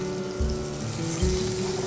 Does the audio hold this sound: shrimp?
yes